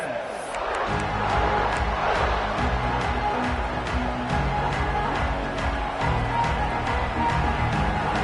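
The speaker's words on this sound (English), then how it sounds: "This place is roaring, and it's going to be so hard to operate under these conditions." A stadium crowd roars steadily in the College Football 26 video game at Michigan State, a dense, loud wall of noise with sharp peaks that keeps going throughout.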